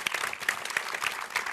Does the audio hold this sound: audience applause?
yes